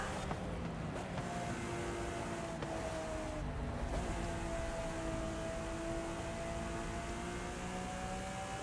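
Engine of a McLaren racing in Forza Horizon 5, a steady high droning whine with gradual pitch shifts, sustained and fairly even throughout.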